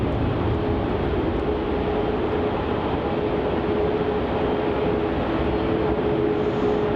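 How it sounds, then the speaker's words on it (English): A Qantas jet departs Melbourne Airport for Sydney: a loud, steady, close rumbling engine roar with a low droning hum, continuous and without voices. "Qantas Flight 406 departing off to Sydney."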